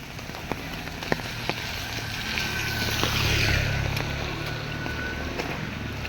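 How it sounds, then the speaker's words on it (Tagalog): Heavy rain pours steadily during a stormy evening outdoors, a dense continuous hiss with occasional louder drops and knocks, swelling slightly midway, with light wind and no talking. "Malakas na ulan"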